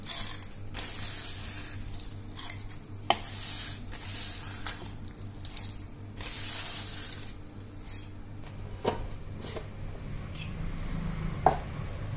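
A small mixer grinder grinding dried turmeric into powder runs in repeated whirring bursts with gritty rattling between them, close by but fairly quiet, with no one talking.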